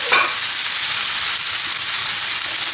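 Garlic and chopped parsley sizzle steadily in a hot pan, a constant close frying hiss with no voices over it.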